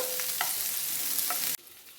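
Masala fish frying in a pan: a close, steady sizzle with a few light spatula clicks, cut off abruptly near the end into near silence.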